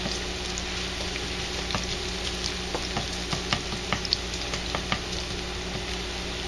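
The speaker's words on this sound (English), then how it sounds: "So now I've got the garlic going in here." Garlic sizzles steadily in a hot pan while onions and mushrooms cook, a constant frying hiss with occasional soft pops and light scraping taps from stirring.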